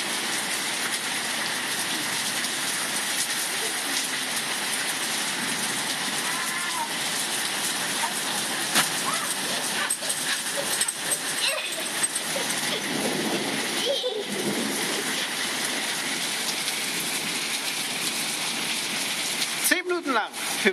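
Rain pours steadily during a thunderstorm on the coast, a dense continuous hiss and patter lasting throughout, with brief rougher bursts near the end and faint voices now and then.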